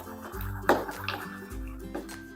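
Water splashes and trickles into a bowl of besan batter mixed with soda, with a few short sloshing bursts over a faint tonal background.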